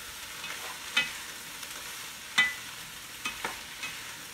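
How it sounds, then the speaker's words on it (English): A utensil stirs Italian seasoning into meatballs in a pan, giving a few soft scraping strokes over a faint, quiet sizzle. "And keep stirring."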